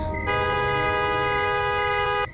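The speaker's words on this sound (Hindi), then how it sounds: "ट्रक का ड्राइवर बिना रुके हॉर्न पर हॉर्न बजाया जा रहा था" A single sustained truck horn blast, loud and harmonically rich, holding steady for about two seconds before stopping abruptly, a sound effect in a romance audiobook scene.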